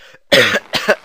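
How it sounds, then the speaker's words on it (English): A brief faint sound, then two close, harsh coughs in quick succession. "I've still got the cough"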